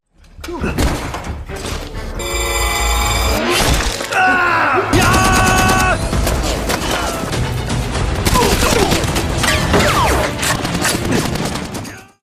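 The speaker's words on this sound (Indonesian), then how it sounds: "Akibat suara tembakan dari senapan milik Ming, keberadaan mereka pun diketahui oleh pihak musuh" Dense bursts of rapid gunfire and heavy thuds fill the scene, loud and continuous, with crashes and movie-style battle noise throughout.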